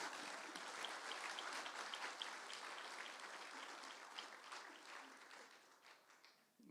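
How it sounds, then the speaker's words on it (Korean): An audience at a Jeonju University honorary doctorate ceremony claps together in a sustained round of applause that gradually thins and fades toward the end. "박수 한번 칩시다"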